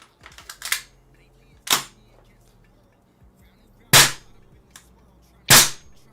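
A custom-built KWA airsoft gun fires four sharp, snappy single shots spaced a second or two apart, loud and close, with faint handling clicks between them.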